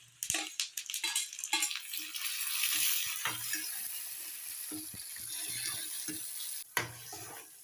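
Onions and tomatoes sauté in a pan with curry leaves, a light sizzle running under sharp intermittent clanks and scrapes of a spatula stirring against the metal.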